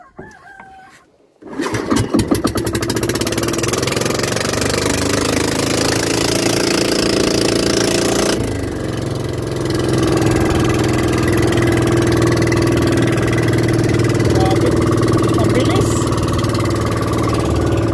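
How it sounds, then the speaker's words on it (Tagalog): A large engine on a small boat carrying five people runs loud and steady, droning continuously at close range after a brief quiet start. "Laki pa ng makina nini. Gamay ng bangka. Dako ang makina."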